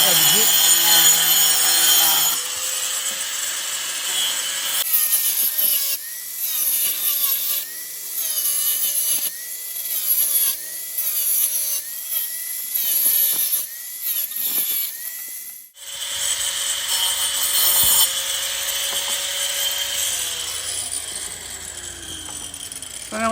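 A power tool cuts through the top of a cylindrical metal drum being turned into a plant pot, a loud continuous whining grind broken into repeated strokes and pauses, with a short quiet break midway before the cutting resumes.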